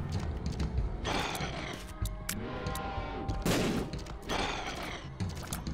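Bomb blast in The Binding of Isaac during a double boss room fight, a loud burst set among dense, busy game noise with repeated sharp hits and crackling bursts across the whole stretch.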